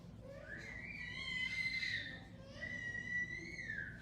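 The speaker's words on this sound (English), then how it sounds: "there's a kid screaming this loud" A child screams shrilly in a nail salon, two long high-pitched wails, the second after a brief pause, heard at moderate distance against quiet room noise.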